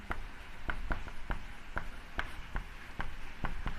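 Handwriting a math solution, with a run of crisp, evenly spaced taps and scratches of the writing tool on the surface, about two to three strokes per second, close and fairly loud with no talk over it.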